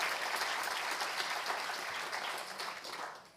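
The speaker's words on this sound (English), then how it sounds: "Let's give them another round of applause." Audience applause at a panel discussion on the Civil Rights Act, a full sustained round of clapping from a crowd that holds steady and then begins to taper off at the end.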